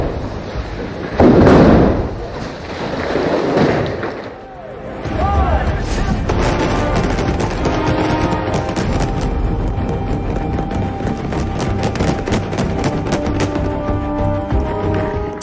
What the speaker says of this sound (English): Large explosions are simulated on set during robot fight scenes.